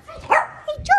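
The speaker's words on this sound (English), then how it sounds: "And George barks a lot." A puppy gives a couple of quick, close yips and barks within a second, sharp and high, with no one talking.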